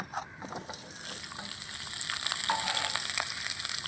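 Cut teasel gourd pieces hit hot mustard oil in a pan, bursting into a loud, steady frying hiss that builds and holds throughout, with no talking.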